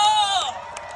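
A festival crowd cheering and whooping for a trot singer at a live outdoor show, a loud burst of shouts and cheers that fades within a second.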